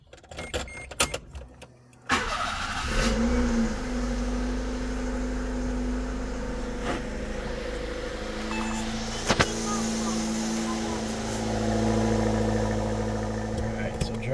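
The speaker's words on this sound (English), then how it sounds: "There's our cold start." A Daihatsu Mira TR-XX Avanzato R kei car fires up on a cold start after a few seconds of small clicks and shuffling, then settles into a steady, loud, close-up idle hum with occasional sharp clicks.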